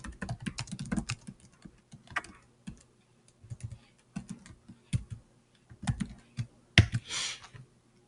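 Computer keyboard typing while entering a comment in Google Docs: irregular bursts of clicky keystrokes, close and clear, with short pauses between runs and no talking.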